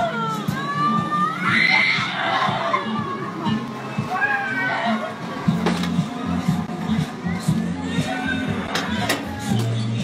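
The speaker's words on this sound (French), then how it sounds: "ils sont en train de crier les gamins, il faut les aider là." Children scream at a funfair in Nantes during a police tear gas deployment. The high, sharp cries come from some distance within a loud, crowded scene, and adults talk over them throughout.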